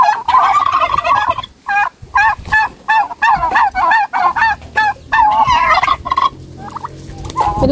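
A flock of turkeys gobbles loudly and close by on a farm, with rapid overlapping rattling calls coming in bursts, pausing briefly, then breaking out again.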